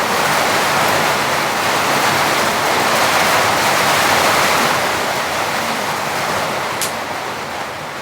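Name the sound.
heavy rain pouring on a cabin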